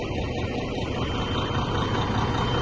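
An old Mack dump truck's diesel engine idles in a steady, dense rumble close to the microphone, an unbroken low drone with no change in pace and no voices.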